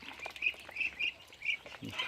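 Farm ducks quack in short, nasal bursts, several calls spaced unevenly over about two seconds, close and moderately quiet.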